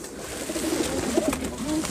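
Pigeons cooing softly in a loft, a low murmuring coo repeating through the short stretch with steady background hum and no talk.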